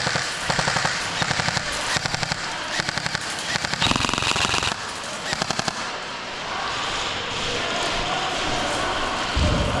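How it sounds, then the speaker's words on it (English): An airsoft gun fires in rapid bursts toward a window, with close, sharp clattering shots in quick strings that then give way to a steadier rustling background near the end. "I'm just shooting into the window."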